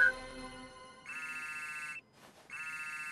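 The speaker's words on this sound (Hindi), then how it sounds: "वो फोन नहीं उठा रही।" An unanswered phone rings in a Miraculous cartoon episode: two loud electronic ringtone bursts separated by a short pause, clear and close.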